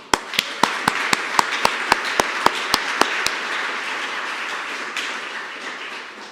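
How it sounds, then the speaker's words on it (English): Audience applause at a White House Recovery Month summit: a burst of crowd clapping with sharp individual claps standing out early, then the dense clapping fading to a softer wash over several seconds. "Another round of applause."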